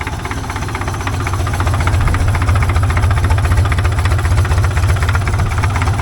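The diesel engine of a 1942 Caterpillar road grader idles low and rough, a steady throbbing chug close by that rises slightly and holds.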